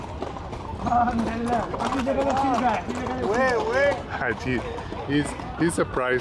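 A horse's hooves clip-clop steadily on pavement while pulling a ride to the airport in a city square, the clopping near and rhythmic beneath a voice talking throughout.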